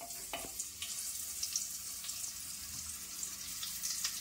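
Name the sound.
paneer frying lightly in hot oil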